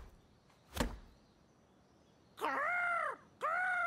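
A crow in the Demon Slayer anime gives two harsh, drawn-out caws near the end, preceded by a single sharp whooshing hit and otherwise quiet background.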